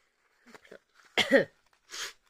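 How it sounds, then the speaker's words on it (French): A few coughs: light sputters early, then a strong harsh double cough, and a final breathy cough after a short pause, close and alone. "Excusez-moi, je tousse encore."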